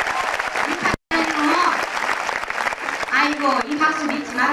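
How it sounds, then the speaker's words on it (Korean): Audience applause at a Korean labor-movement song and performance event, a steady wash of clapping broken by a brief dropout near one second, with a voice speaking over it throughout. "이 박수 믿지 말아요"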